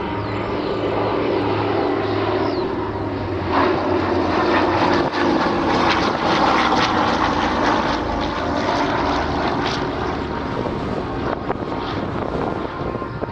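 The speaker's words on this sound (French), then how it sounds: "Pour beaucoup, ce ronronnement est véritablement le son de la... Cet avion qui se présente sur votre droite" Propeller engines of a WW2 C-47 (DC-3) transport aircraft flying a display at an air base near Orléans, a loud, continuous droning roar that stays steady and close throughout.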